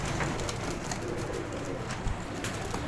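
Qasoori flying pigeons coo softly and repeatedly at close range over a steady hiss of background noise, with no talking.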